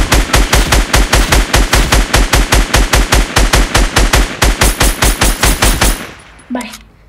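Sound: gunfire in Fortnite mobile video game

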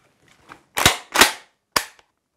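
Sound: working the action and firing a tube-magazine gun

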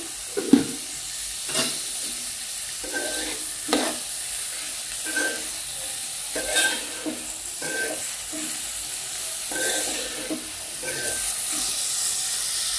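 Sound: onions cooking in a pan with salt

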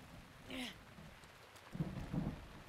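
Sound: rain in video game Zelda Breath of the Wild

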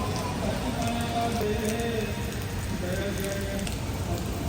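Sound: heavy rain falling

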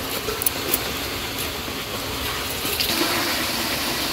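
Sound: water being poured into frying meat while cooking

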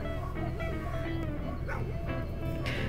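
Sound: dogs barking

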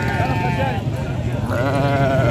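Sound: sheep bleating at a livestock market

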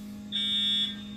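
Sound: apartment fire alarm going off

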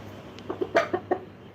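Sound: chicken clucking

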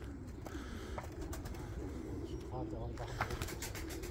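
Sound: pigeons, Turkish tumbler pigeons, cooing

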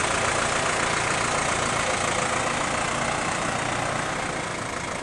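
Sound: New Holland T4050 tractor engine idling

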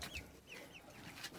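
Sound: broiler chickens clucking on a farm

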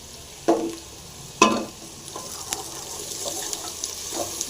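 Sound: onion and crushed garlic frying with mustard seeds

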